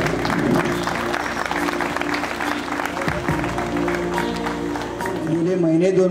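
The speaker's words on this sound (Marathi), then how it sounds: "टाळ्या उदे जोरात." Steady crowd applause at a Gadhinglaj High School reunion felicitation, continuous and fairly loud, mixed with a voice speaking over the clapping near the end.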